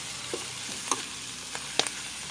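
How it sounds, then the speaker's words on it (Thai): Basil-type leaves stir-frying in a pan at home: a faint, steady low sizzle with a few soft scrapes of a spatula against the pan, no voices. "พอเราใส่ใบชูเข้าไปนะคะ เราจะผัดสักแป๊บหนึ่งนะคะ"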